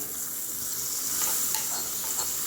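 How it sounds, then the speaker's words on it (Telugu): Hot tempering poured into raw tamarind soup gives a steady bright sizzle and hiss, close and continuous, with small crackling bursts partway through. "ఇప్పుడు ఈ పోపు అంతా ఇందులో వేసేస్తున్నాం"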